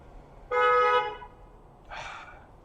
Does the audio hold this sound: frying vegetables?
no